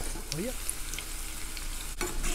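Bola-bola meatballs fry in hot oil with a continuous crackling sizzle, broken by a sharp click near the end.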